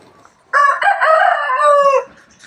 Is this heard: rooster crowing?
yes